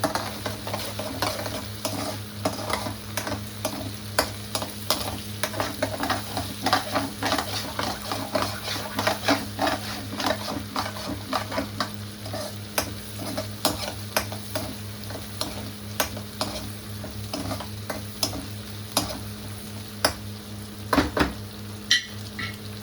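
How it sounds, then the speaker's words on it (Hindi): Spices frying in a pan for noodles, a loud continuous sizzle with rapid, busy stirring and utensil scrapes against the pan throughout, close up and with no talking. "तो ये मसाले कर रहे हैं फ्राई।"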